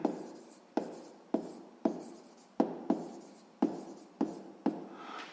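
Handwriting while working out a math problem: a series of about ten short, crisp strokes in a quiet room, each a sharp scratch that fades quickly, spaced roughly half a second apart.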